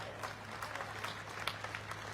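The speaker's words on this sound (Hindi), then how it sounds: "आप जोरदार तालियों से उनका स्वागत करें।" A crowd at a political event applauds to welcome Rajasthan's chief minister, Bhajanlal, in a faint, distant wash of steady clapping.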